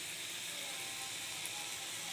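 Taro leaves frying in a pan with dried chili and black cumin tempering make a steady, soft, hissing sizzle that stays even throughout, faint and close, with no voices.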